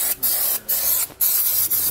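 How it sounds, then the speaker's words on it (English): Brake parts cleaner sprays onto a disc brake rotor on a 2020 Jayco Pinnacle fifth-wheel trailer: four close, loud hissing bursts separated by brief pauses. "we want to clean the surface of our rotor here using some brake parts cleaner"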